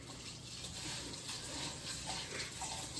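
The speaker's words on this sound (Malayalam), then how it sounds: "നന്നായിട്ട് 3-4 വെള്ളത്തിൽ കഴുകിയെടുക്കാം." Rice and lentils are being washed by hand in water for a kichadi. Soft, fairly faint water swishes and runs continuously, with no voices.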